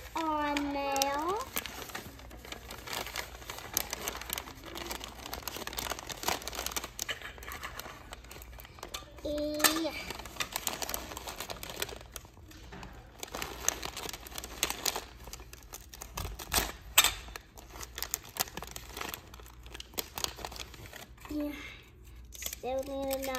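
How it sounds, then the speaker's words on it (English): Clear tape pulled and pressed onto a wrapped birthday present, with crinkling paper rustles and short tearing sounds close up, under a child's and an adult's speech throughout. "Now let's put the tape right on there."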